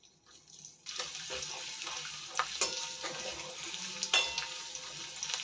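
Chopped garlic frying in white oil in a wok: after a quiet start, a steady moderate sizzle with scattered clicks and scrapes of stirring.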